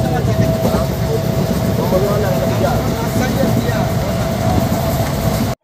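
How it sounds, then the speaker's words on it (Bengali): The Maa Tara Express rumbles along toward Rampurhat, a steady loud rolling drone of wheels and carriages heard from inside, ending abruptly. "তারাপীঠ রোড দিয়ে এই ট্রেন ছেড়ে দিয়েছে তার লাস্ট গন্তব্য রামপুরহাটের উদ্দেশ্যে"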